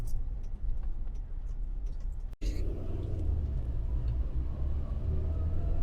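A 1997 Toyota Land Cruiser Prado 95 series cruises in fifth gear, with a steady low engine and road rumble heard from inside the cabin and a brief click partway through.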